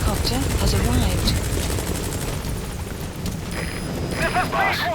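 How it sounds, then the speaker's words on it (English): A support helicopter arriving in the game Metal Gear Solid V, a loud, steady rotor roar and engine drone filling the scene, with brief radio-style voice chatter over it. "Support helicopter has arrived."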